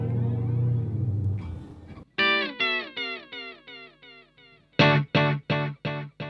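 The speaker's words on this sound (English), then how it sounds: "That's a great delay sound." Electric guitar played through a KMA Audio Machines delay pedal: two bursts of plucked notes with bright, decaying echo repeats, the first after a sustained held chord, loud and close with no talking.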